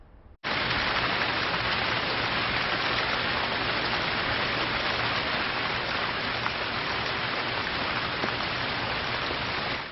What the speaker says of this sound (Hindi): मुंबई में लगातार हो रही बारिश के चलते हालात बेहद खराब हो चुके हैं